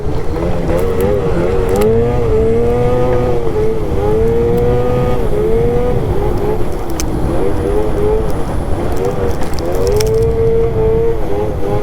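An Arctic Cat Catalyst 858 snowmobile engine drones loudly and continuously, its pitch swelling and dipping as the throttle is worked, with rushing wind noise underneath while riding.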